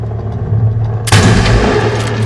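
A single loud, close sniper rifle shot booms in the World War 3 video game, a sharp blast followed by a short rumbling tail over steady background hum.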